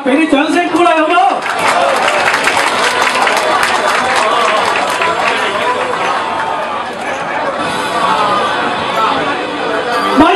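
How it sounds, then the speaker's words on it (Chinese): A crowd applauds at a Kuomintang 117th-anniversary gathering and birthday event for a Ma Ying-jeou support association. A voice on the address system comes first, then broad clapping with loud chatter mixed in throughout. "大家给点掌声鼓励好不好？"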